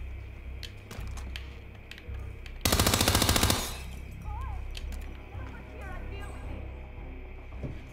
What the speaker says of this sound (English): let me get an unsilenced gun like this